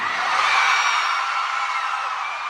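A concert crowd of fans at a Watsons event screams and cheers in one loud, continuous wall of high-pitched noise with no pauses.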